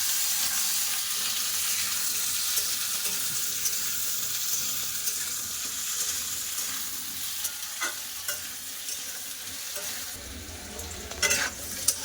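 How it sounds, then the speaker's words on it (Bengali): Potatoes fry in hot oil with black cumin seeds, a continuous loud sizzle running throughout with occasional utensil scrapes and a few clinks toward the end. "আলুটা আগে একটু ভেজে নেবো"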